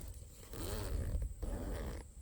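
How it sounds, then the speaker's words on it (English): A zipper on a ShedOFF hunting blind being drawn, a steady soft rasp lasting about a second and a half, close by and fairly quiet. "So it's got a traditional zipper."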